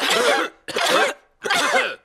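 Three harsh, forceful coughs in a row, each burst loud and close, separated by short silences, with no talking.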